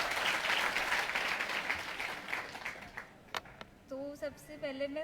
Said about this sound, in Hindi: जोरदार तालियां ऐसी बेटी के लिए।